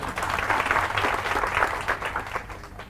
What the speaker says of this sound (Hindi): तो इनके लिए तालियां बजाओ एक बार।